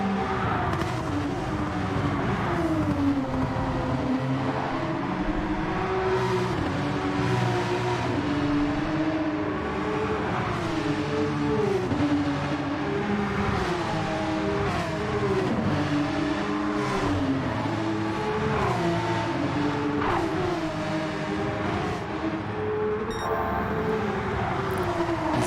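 Porsche Cup race cars at Bathurst, a steady drone of engines close by with rising and falling pitch as they accelerate and shift through the corners, continuous throughout.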